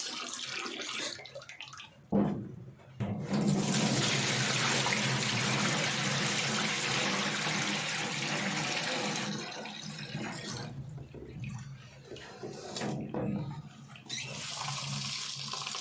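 Rice-washing water poured out of a pot into a sink while cooking rice, a steady rushing splash that runs for several seconds, stops briefly and resumes in shorter bursts, with no talking.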